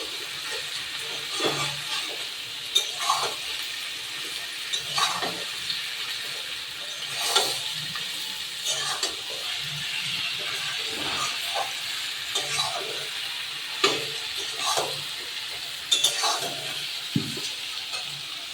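Potato, eggplant and spices sizzle in hot oil for a Bengali hilsa curry, with a steady frying hiss and intermittent scraping clicks of a spoon stirring in the pan, close and moderately loud.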